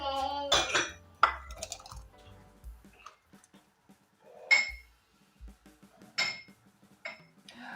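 Clinks of glass and metal with small wet drips, scattered taps of a ladle against glass jars while ladling thick jam, close by with quiet gaps between.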